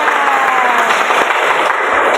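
A classroom of students claps together in a sustained burst of applause, dense and even throughout, with no pauses or voices standing out.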